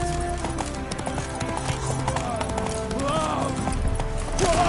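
Hoofbeats of Roach, the horse in The Witcher 3: Hearts of Stone, clopping at a gallop in a steady rhythm under game music and voices, with a brief whinny-like sweep near the end.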